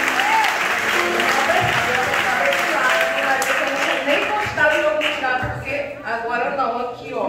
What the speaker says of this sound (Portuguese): Aplaude o Senhor, mais uma pessoa curada para a glória de Deus.